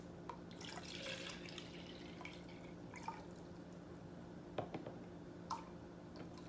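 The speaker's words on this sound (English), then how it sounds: "I'm going to just fill up my NutriBullet cup." Water is poured into a NutriBullet blender cup in a kitchen, a soft trickling and dripping stream that comes faint and close with a few small splashes and drips, heard without talk.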